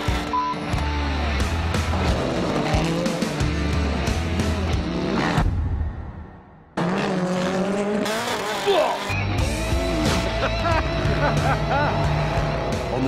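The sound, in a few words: Ken Block's car racing a dirt bike, tires skidding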